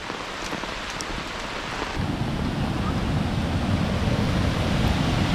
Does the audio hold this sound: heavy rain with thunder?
yes